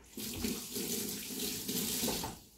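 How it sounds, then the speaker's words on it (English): A kitchen faucet runs steadily into a sink while a container is quickly rinsed of residue, the water splashing continuously for a couple of seconds at close range with no talking. "I'm going to give this a really quick rinse."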